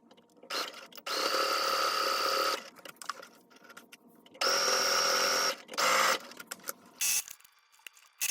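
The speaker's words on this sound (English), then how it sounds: "And I'm only sewing the handle." A sewing machine stitches a bag handle at about a quarter-inch seam allowance, running in several steady mechanical bursts of a second or so, with quiet pauses and short stops between them; no talking.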